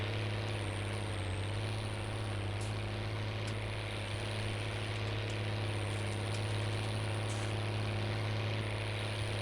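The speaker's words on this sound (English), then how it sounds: "I love the sound of this tractor" An MB tractor engine in the Farming Simulator 19 video game drones steadily and evenly for the whole stretch, a low continuous hum with no talking.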